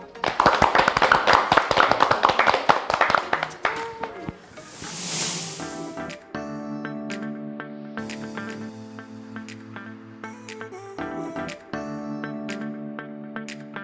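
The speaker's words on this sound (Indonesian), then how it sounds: "Mari kita sama-sama memberi tepuk tangan untuk mereka berdua" Applause for two finalists, Agung and Didik, at a sewing competition grand final: a dense burst of clapping fills the first few seconds, then fades as sustained music takes over.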